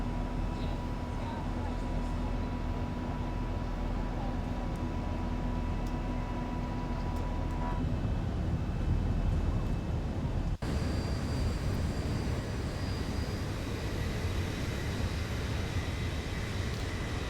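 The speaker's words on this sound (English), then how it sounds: "We can just listen to these glorious engines as they climb out." Boeing 737-800 engines in X-Plane 11 drone steadily as the jet climbs out, a continuous broad roar with a sustained tonal hum, under occasional talk.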